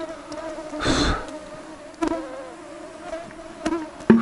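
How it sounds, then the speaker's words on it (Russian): Insects buzzing in a forest while cedar cones are gathered, a faint high whine around the listener with one louder close pass near the start, over quiet outdoor ambience. "Комаров-то сколько тут."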